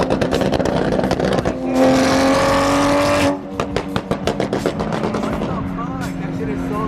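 A Lamborghini Huracan Performante engine revs hard nearby, holding a loud high-pitched roar before dropping into sharp crackles and pops as it settles.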